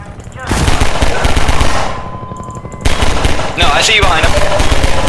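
Gunfire in Half-Life 2 comes in loud, rapid automatic bursts. A brief lull separates them before the firing resumes close and dense.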